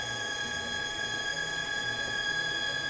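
A timer alarm sounds steadily during a flow test of a repaired M104 fuel distributor from an R129 Mercedes 300SL, giving a sustained electronic tone over a constant mechanical hum from the test rig, with no talking.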